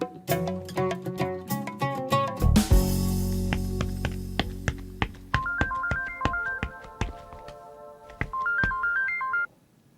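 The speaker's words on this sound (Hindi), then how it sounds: "वो काम के सिलसिले में ना जरा एक फोन करना है" A phone is dialed, with quick rhythmic tones and taps spread across the whole stretch, then a short stepped melody that repeats twice. A loud burst of noise comes in early on, and no one speaks.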